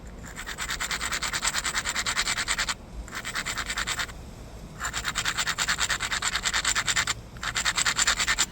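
Abrasive grinding on the edge of a textured Rim Rock Draw obsidian point: rapid, steady scratchy rubbing strokes in close, loud bursts, broken by two short pauses, with no talking.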